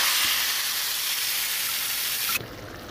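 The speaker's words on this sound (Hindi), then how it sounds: "अब ये जो बघार मैंने बनाया था ये मैं इसी तरह गर्म डाल दूँगी" Hot tempering poured into tomato curry, a loud steady sizzle and hiss lasting over two seconds before dropping abruptly to a softer fizz.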